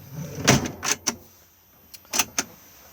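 A storage drawer under the rear bench seat of an Auto-Sleeper Warwick Duo motorhome slides out with a few sharp clunks and rattles, then knocks a couple more times after a short pause.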